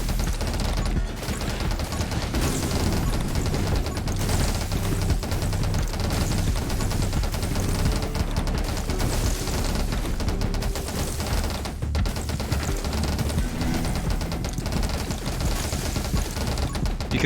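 Dense, relentless gunfire and explosions from the Grenade Launcher in the game 20 Minutes Till Dawn, a continuous loud barrage of rapid blasts filling the whole stretch without pause.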